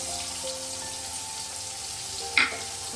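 Chopped onion frying in a pan makes a steady, soft sizzle, with one brief clink or scrape near the end and a faint background hum, and no one speaking.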